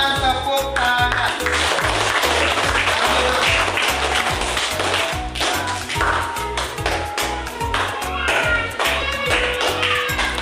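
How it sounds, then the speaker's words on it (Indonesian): Classroom applause in a primary-school teacher-training practice lesson: a dense, steady round of many hands clapping, loud and sustained for about ten seconds, with a rhythmic low thumping running underneath. "Silakan tepuk tangan."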